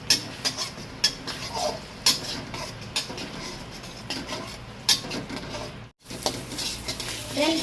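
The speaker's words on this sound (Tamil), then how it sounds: "நல்லா கிளறிட்டே இருங்க ஃப்ரெண்ட்ஸ், அப்போதான் அடி பிடிக்காம வரும்" A utensil repeatedly clinks and scrapes against a pan as scrambled eggs for egg noodles are stirred, sharp irregular taps over a low background hiss, with a brief dropout near the end.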